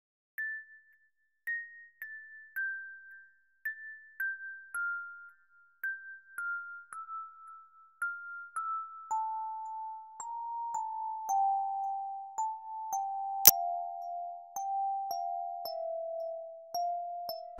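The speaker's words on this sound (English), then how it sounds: "And last thing, I have this bell." Bell synth patch in a rap beat, playing a slow descending melody of separate pinging notes alone, each ringing briefly, with a single sharp click near the end.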